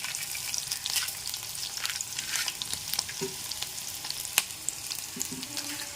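Chana dal and urad dal frying in oil for a kanda avakaya pachadi, a close, fairly quiet sizzle with scattered crackles and a few stirring clinks, no talking.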